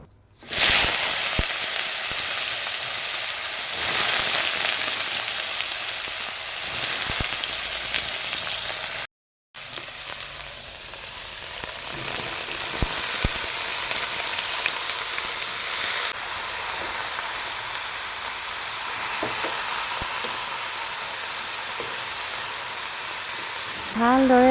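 Chopped banana stem sizzles and hisses in hot oil left over from frying fish, a continuous bright frying crackle heard up close with a brief break, while a voice talks over it.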